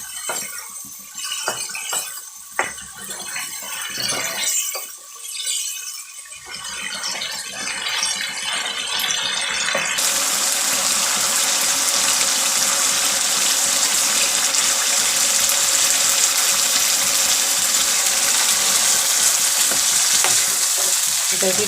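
Chicken and potato qorma fries in a pan, first with uneven stirring and scraping over a patchy sizzle, then a loud, steady, dense hiss of frying that fills the rest, close by with no talk.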